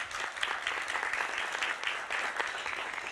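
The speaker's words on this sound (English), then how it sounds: "And a round of applause for Moshe Hokek" A crowd claps steadily through a live media launch event in Barcelona, a dense, even wash of applause at close range with a faint voice underneath.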